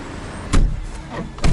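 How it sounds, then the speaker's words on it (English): Heard from inside a moving Lada car, the engine gives a low, steady rumble, broken by two heavier thumps and rattles, as from bumps in the road. "What an amazing car."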